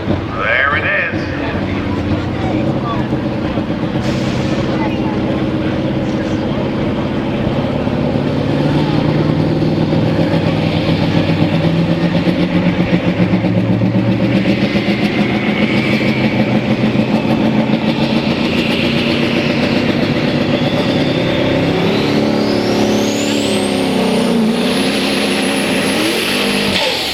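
A hot rod semi truck roars under heavy load during a truck pulling event, a loud, sustained low engine drone with shifting pitch over a long pull, then a rising high whine toward the end.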